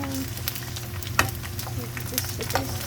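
Pork rinds (chicharon) fry and sizzle steadily in hot oil, close up, with occasional sharper pops and crackles breaking through the constant hiss.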